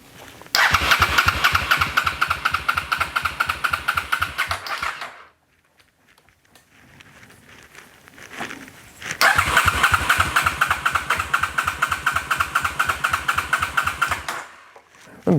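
A 1986 Honda VT500C motorcycle engine is cranked and fires into a loud, close, rapidly pulsing run, cuts out into near silence, then starts again and runs in a steady throbbing rhythm before stopping.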